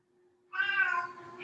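A cat gives one clear, drawn-out meow close by, rising and then tailing off, with a faint steady hum underneath.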